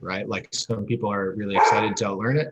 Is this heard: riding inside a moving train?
no